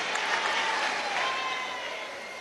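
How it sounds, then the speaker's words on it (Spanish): A crowd applauds at a large government event in Venezuela, a short steady wash of clapping and murmuring that slowly softens toward the end. "Vamos a darle un aplauso a este portugueseño de Turén"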